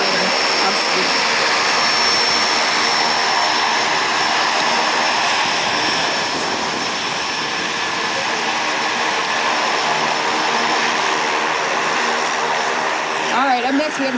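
A warbird ground attack aircraft flying at the Warbirds Over Monroe airshow, a loud continuous engine roar and whine that stays steady throughout, with a public-address voice speaking over it.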